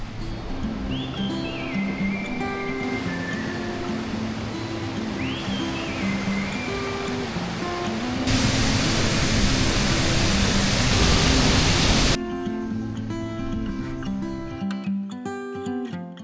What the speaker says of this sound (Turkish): Bakın su buradan geliyor. Şelalenin suyu.